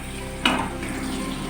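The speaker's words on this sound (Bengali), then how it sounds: "টমেটোটাকে ভালো করে ভেজে নেব।" Chopped tomatoes with salt frying in a pan after ginger, a brief stir or scrape near 0.45 s over a steady close sizzle, no talking.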